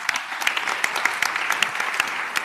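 A round of applause at a roundtable event in Bologna, brisk clapping from an audience with a few sharper individual claps standing out, close and fairly loud for a short burst.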